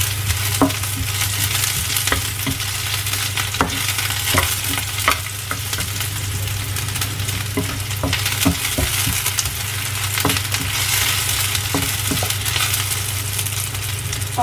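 Constant oily sizzling of ginger, garlic and shallots frying in a wok, with frequent sharp metallic scrapes and clinks of a spatula stirring, close up.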